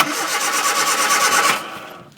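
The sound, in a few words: Hillman Avenger engine cranking and starting after 24 years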